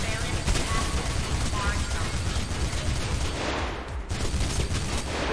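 Gunfire from the video game Mirror's Edge, shooting at servers in a dense, loud barrage of shots with mechanical clatter, a brief drop near the end, then resuming.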